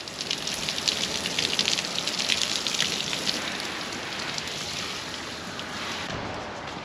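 Steady hiss of water spraying and splashing onto hanging basket plants, continuous and fairly loud, stopping abruptly near the end.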